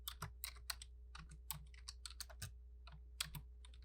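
Keys clatter on a computer keyboard as a short filter name is entered, a quiet run of uneven clicks over a steady low hum with no talking.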